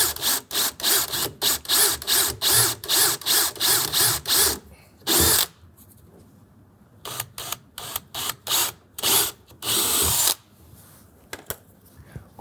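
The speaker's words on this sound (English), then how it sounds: "again with our 1/4" drill bit, go ahead and make 2 holes" A power drill with a 1/4-inch bit bores holes in a Husky universal mud guard on a 2024 Ford F-150: a rapid string of short, close whirring bursts, a brief pause, then more scattered bursts ending in one longer run.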